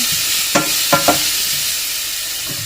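Garlic sautés in a pan with a steady soft sizzle, broken by a few quick scraping clicks from stirring.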